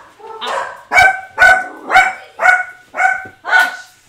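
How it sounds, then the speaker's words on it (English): Dogs bark in a rapid series of about seven loud, evenly spaced barks heard up close, with a faint voice at the start. "More dogs."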